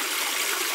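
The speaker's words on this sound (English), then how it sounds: "Coming down now with this little stream that probably leads down to Cheddar." A small stream trickling across fields near Cheddar, a soft continuous rush of running water, close and steady, with no voices.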